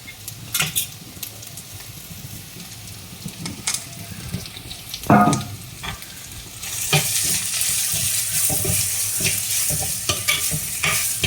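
Sliced onion and green chillies fry and sizzle in a pan, with a spoon scraping and stirring in scattered knocks, then a louder steady hiss builds as the frying intensifies.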